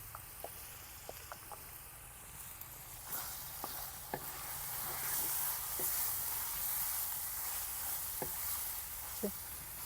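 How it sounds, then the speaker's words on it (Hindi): Minced meat (keema) frying with ginger-garlic paste in a pan, a soft steady sizzle and hiss with scattered light clicks and taps from stirring, fairly quiet and close. "तो माशाल्लाह जी यहाँ पे कीमा हमारा जो है वो फ्राई हो रहा है।"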